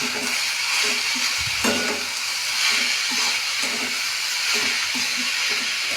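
Carrots sizzle and fry in hot ghee in a pan with bay leaves and cracked cardamom, a steady close hiss with faint stirring scrapes running throughout.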